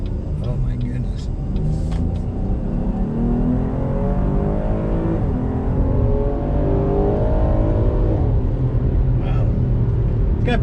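A 2021 Chevy Blazer RS with front-wheel drive accelerates, its engine rumbling loud and steady from inside the cabin and rising gradually in pitch.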